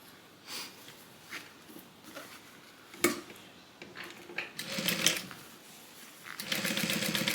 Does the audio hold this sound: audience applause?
no